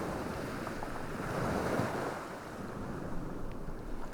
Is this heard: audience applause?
no